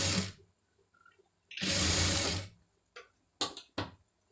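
A sewing machine stitching the lining of a star-shaped neck, several short whirring runs: a brief burst, a longer steady run, then two quick stops and starts, close and alone.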